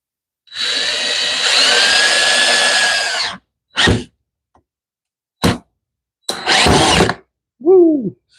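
Power drill driving screws into a glued wooden workpiece, a long whining run followed by several short bursts and a final squeaky creak, close and loud with silence between.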